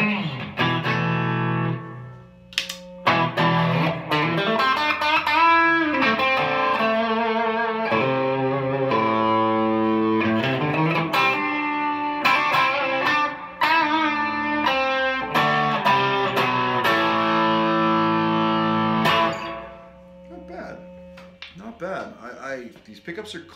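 Squier Classic Vibe 70s Stratocaster electric guitar played through an amp with slight overdrive breakup, strummed chords and sustained ringing notes, loud and close, with a few brief pauses and a fading tail at the end.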